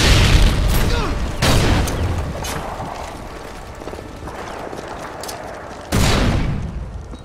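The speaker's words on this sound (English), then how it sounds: "Throwing a stun grenade!" Stun grenade going off in Modern Warfare 2 Capture the Flag, sharp booming blasts at the start and again near the end, with crackling gunfire and shouting voices between them.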